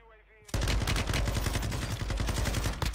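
Sustained, loud automatic gunfire in a shooter video game breaks in suddenly after a brief quiet tone and keeps going as a dense, rapid rattle.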